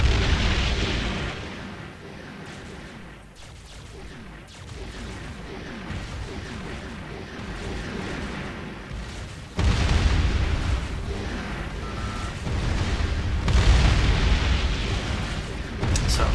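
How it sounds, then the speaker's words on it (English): Big missile salvos explode in the space strategy video game Distant Worlds, a dense rumble of booms and bursts that swells sharply partway through and stays loud and layered to the end. "Nice big salvos of missiles"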